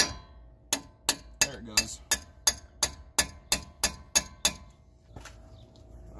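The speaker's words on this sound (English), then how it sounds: "I might try tap on it from the outside with just one of my sockets and see if it will pop out" Metal socket tapping on the CV axle of a 2000–2006 Chevy Silverado, about a dozen sharp, evenly spaced metallic clinks up close, followed by a brief remark.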